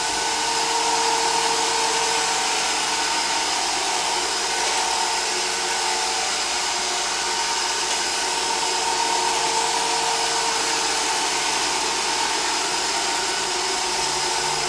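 Roomba robot vacuum cleaner running indoors, a steady whirring motor and brush hiss at a constant moderate level, close by, with no other sounds.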